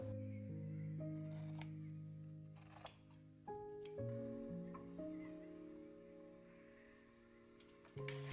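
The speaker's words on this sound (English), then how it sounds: "Then I trim off the thread tails and snip off the corners." Scissors snip thread tails and trim fabric corners on a sewn gift bag, a few sharp, quiet cuts spaced apart against near silence.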